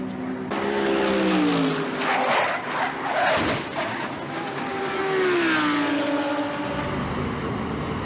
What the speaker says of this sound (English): Spencer Pumpelly hard into the tire barrier at the end of row one, or excuse me, turn one